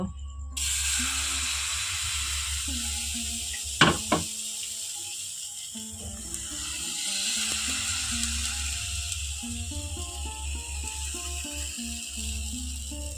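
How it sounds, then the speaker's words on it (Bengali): Butter sizzling steadily in an oiled pan over medium heat for an eggless vegetarian omelette, a continuous bright hiss with a couple of sharp clatters of a utensil against the pan partway through. "এখন আমি এক হাতা বাটার দিয়ে দেব"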